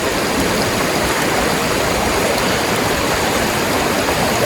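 A Great Smoky Mountains stream rushes steadily at a backpacking water crossing, a loud, continuous broadband wash of flowing water with no voices.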